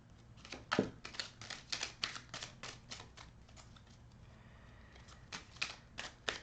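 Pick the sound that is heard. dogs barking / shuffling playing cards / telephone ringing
shuffling playing cards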